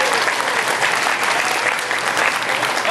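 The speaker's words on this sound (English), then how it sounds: "give Jamie Perry a big round of applause." Audience applause closing a glassblowing demonstration at a museum hot glass show, a dense, loud, continuous clapping from a crowd that fills the whole stretch.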